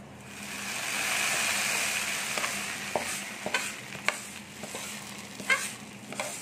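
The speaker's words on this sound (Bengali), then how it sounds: "ফোড়নটা দিয়ে দিব" Whole spices crackle and sizzle in hot oil over a very low flame as a tempering for a beef and khesari lentil curry, a steady close frying hiss broken by sharp pops and stirring scrapes, with no talk.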